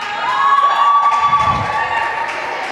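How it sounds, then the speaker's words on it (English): Girls cheering and shouting together in a gym during a volleyball game timeout, a bright sustained burst of high voices from the crowd that swells and then eases off. "You see the girls cheering."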